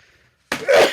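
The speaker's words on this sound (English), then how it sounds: "you listen or I will sneeze again. I swear to God I will." A single sudden sneeze bursts out close to the microphone after a brief quiet moment, loud and breathy with a sharp onset.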